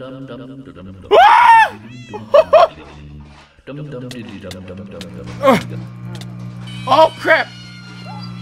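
A dog in the Minecraft video game, in a Five Nights at Freddy's survival map, gives a few short barks and yips among game sounds, while a man exclaims loudly over them.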